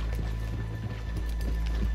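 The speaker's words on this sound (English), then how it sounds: "Let's leave the horses here off the main drag." Horse hooves clip-clop at a steady walking pace through a Western town street in Red Dead Redemption 2, fairly close over a constant low ambient hum, with no talking.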